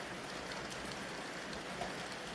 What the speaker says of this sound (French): C'est pas le ventilateur, chérie. C'est la pluie. Il pleut, maman.